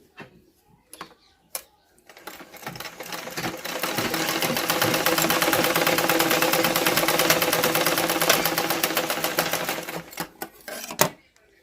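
A domestic sewing machine runs a line of stitches, a rapid steady mechanical whir that builds up, holds for several seconds and winds down, framed by a few sharp clicks before and after.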